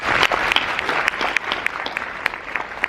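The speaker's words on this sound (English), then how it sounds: "well-deserved applause" Room full of people applauding students at an academic ceremony, a dense, lively wash of clapping with sharp individual claps popping out, starting strong and easing slightly over three seconds.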